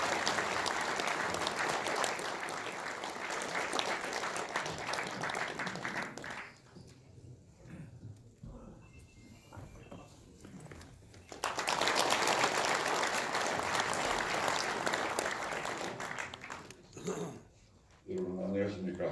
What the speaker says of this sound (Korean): 다시 한번 박수 쳐준 전 총리님을 힘찬 박수로 맞이해 주시기 바랍니다